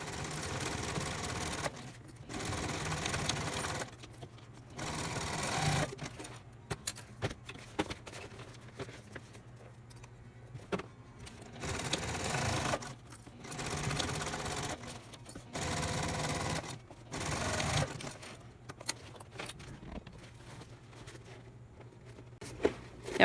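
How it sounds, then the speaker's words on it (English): Sewing machine stitching down both long edges of a tote bag, a steady mechanical whir running in several bursts separated by brief pauses, close and fairly quiet with no talking. "we're going to go to the machine and we're going to stitch just down both long edges here"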